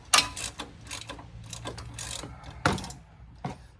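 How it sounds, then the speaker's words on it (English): Ratchet wrench clicking in short bursts while turning a bolt during front brake work on a 2000–2005 Ford Taurus/Sable, close and fairly loud, with several separate ratcheting strokes and no talk. "Let's check the shorter ratchet."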